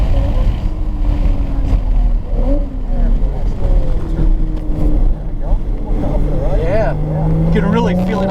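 A race car's engine roars loud and close in onboard view, pitch climbing steadily as it powers out of a corner, with a driver talking over the continuous drone.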